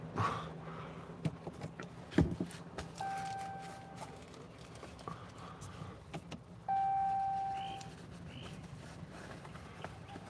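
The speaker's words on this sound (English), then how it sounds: "I just want to roll up the dang window" A truck's electric power window motor whirs in two separate runs, the second louder and steadier, over faint vehicle-cabin noise and a few scattered clicks and knocks.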